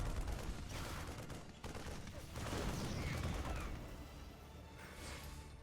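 Rapid gunfire and impacts from StarCraft 2 units firing on SCVs during a Protoss versus Terran match, a dense continuous volley of crackling shots and clanks at steady loudness, with no clear talk over it.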